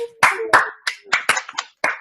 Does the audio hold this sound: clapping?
yes